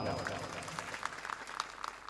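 Audience applause at a retirement ceremony honouring a soldier, a steady crowd clapping that continues at moderate level across the whole short stretch, with scattered sharper claps standing out near the end.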